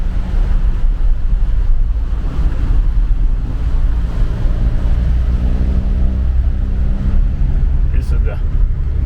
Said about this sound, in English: This is the Nolichucky River.